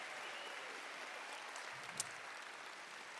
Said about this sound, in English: give a round of applause for all of the amazing volunteers who helped sign you in today